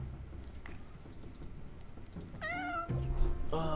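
A house cat meows twice near the end, a drawn-out call followed by a shorter one, over faint, patter-like background noise.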